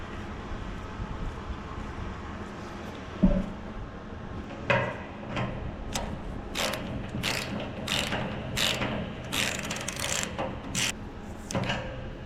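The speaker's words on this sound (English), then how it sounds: "So we got our new dip tube going in. Just socket that back down in there." A socket wrench ratchets a new dip tube into a propane tank, with repeated crisp clicking strokes close up over a faint background hum, plus a couple of metallic knocks.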